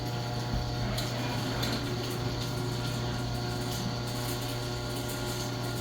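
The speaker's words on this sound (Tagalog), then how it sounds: "Now close back the door using your remote." A LiftMaster garage door opener closes the door under remote control, making a continuous mechanical whir and grind with faint ratcheting clicks that hold at an even level from start to finish.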